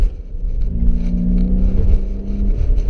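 A 1991 BMW 525i E34 engine revs under load while driving, a close steady hum with a rising whine held through the middle of the clip over road rumble.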